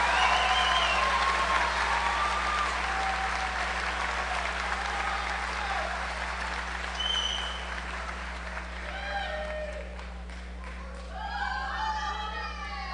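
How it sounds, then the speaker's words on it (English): Sustained audience applause at a high school senior recognition ceremony honoring a diesel technology class, a steady wash of clapping from a large crowd with faint scattered voices, tapering slightly toward the end. "Would you please give a round of applause to the Diesel Tech class of 2018?"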